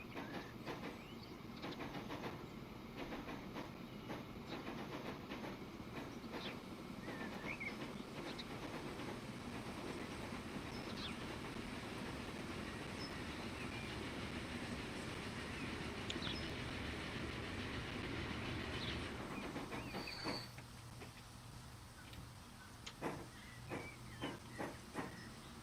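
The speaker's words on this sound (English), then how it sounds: "That train can start to make its way." Train running on rails in the video game Transport Fever 2, a steady hissing rumble with faint clicks that drops away near the end, leaving sparse clacks.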